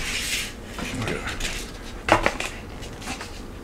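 Knife or cutter slicing through homemade pizza on a plate or pan, a few short scraping, clinking strokes up close with a sharper scrape in the middle, surrounded by quiet kitchen background.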